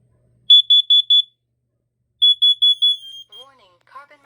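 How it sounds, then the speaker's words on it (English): Kidde KN-COP-IC carbon monoxide alarm under test, sounding two bursts of four sharp high-pitched beeps separated by a pause, loud and close, followed by a brief electronic voice. "This next one we're going to test is the Kidde KN-COP-IC."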